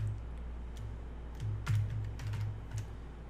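A password is typed on a computer keyboard as a short run of quiet, close key clicks in an uneven rhythm over a faint background hum.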